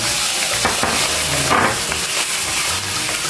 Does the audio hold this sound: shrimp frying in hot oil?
yes